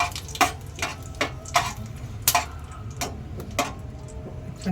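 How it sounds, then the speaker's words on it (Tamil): Chicken masala being stirred in a pan, a spoon or spatula scraping and tapping the metal in a steady rhythm of about a dozen sharp strokes over a low sizzling bed, close and fairly loud. "நல்லா மிக்ஸ் பண்ணிக்கலாம்."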